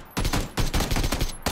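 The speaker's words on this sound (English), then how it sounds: "He's shooting at me!" Rapid bursts of gunfire aimed at the player in PUBG, loud and close, coming in dense rattling volleys with a brief break partway through and no voices.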